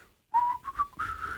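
A man whistles a short tune in a 1959 haunted-house movie scene, a few clear, close notes rising and falling after a brief silence, alone without speech.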